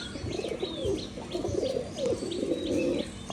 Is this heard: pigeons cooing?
yes